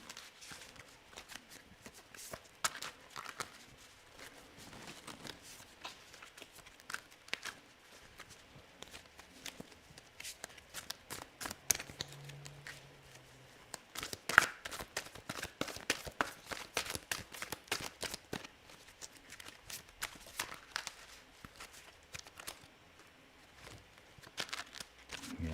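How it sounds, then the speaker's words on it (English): Tarot deck being shuffled during a live reading, soft, faint riffling and card-tapping bursts in irregular clusters, close and quiet, with brief quieter gaps between. "Let's continue shuffling here."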